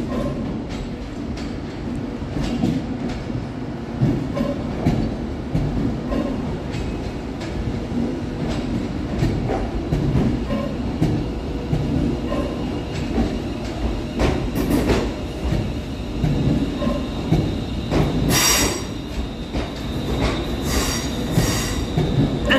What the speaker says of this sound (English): Next train out of the tunnel is 390-130 City of Edinburgh, working the 1310 Avanti West Coast service